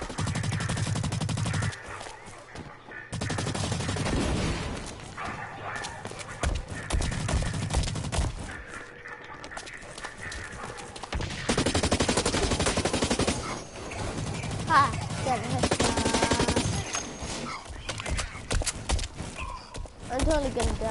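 Video game gunfire in bursts of rapid shots scattered among game sounds, with a player talking over the action throughout.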